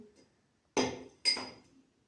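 Two sharp glassy clinks half a second apart as a drinking glass is set down over a plate holding water and a candle, in an otherwise quiet space.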